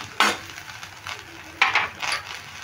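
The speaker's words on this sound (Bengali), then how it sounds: "সোয়াবিনটা একটু নেড়ে ভেজে নিলাম" Soybean chunks frying in a pan while being stirred, with a few sharp scraping and clattering strokes over a faint background sizzle, close by and without talk.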